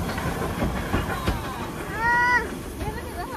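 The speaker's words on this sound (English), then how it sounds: "The engine's coming down." Rumbling railway noise with a rising whistle-like tone partway through, heard over background chatter as a steam train engine draws near.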